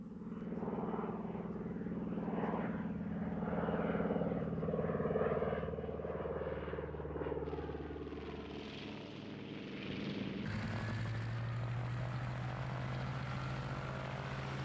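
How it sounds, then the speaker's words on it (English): B-25 Mitchell bomber taking off from the aircraft carrier Hornet: a steady, droning propeller-engine roar that holds throughout, with a rising, shifting engine tone and no talk. "Lieutenant Colonel Doolittle's plane took off from the carrier Hornet, followed by the 15 others"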